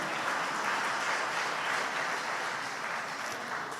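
Congregation applauding during a church preaching service, a steady, even wash of clapping heard at a moderate distance and fairly soft, with no voices over it.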